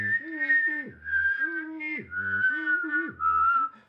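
A person whistles Satie's Je te veux melody, clear and close, in four lilting phrases separated by short breaths, with a hummed voice tone underneath the whistled line.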